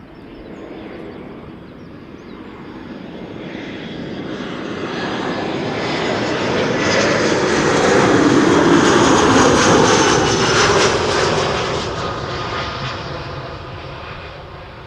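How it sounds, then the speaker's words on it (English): An EasyJet Airbus A319 arriving at Schiphol Airport passes by with a loud jet engine roar that builds to a peak and then fades away, with no voices over it. "Let's quickly turn back to the A319 arriving from Bristol, EasyJet."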